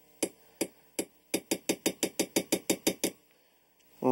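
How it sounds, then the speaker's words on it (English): A hammer repeatedly striking a center punch to stake the firing pin retaining pin of a Smith & Wesson revolver, with about fourteen sharp metallic taps, slow at first and then quick and evenly spaced, close and alone, followed by a brief clatter. "place our hammer over, our Smith & Wesson hammer over our center punch, take another center punch on top"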